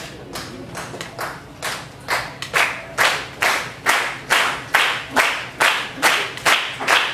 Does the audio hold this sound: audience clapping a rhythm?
yes